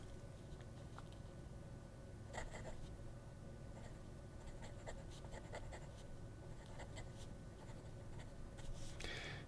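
A Majohn-Moonman fountain pen scratching across paper, faint intermittent strokes and light ticks over a steady background hiss, alone without talk.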